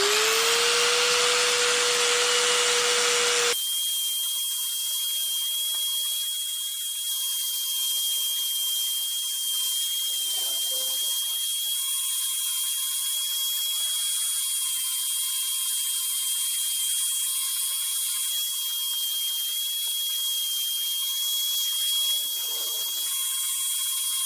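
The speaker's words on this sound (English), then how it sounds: "got a little Harbor Freight finger sander here. Let's use that to clean him up quick." Small Harbor Freight finger sander running on a carved wood spirit face, a steady high electric whine with a rising pitch at start, close and continuous with no talk.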